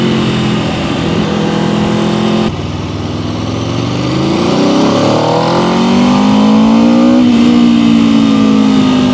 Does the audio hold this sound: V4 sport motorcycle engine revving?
yes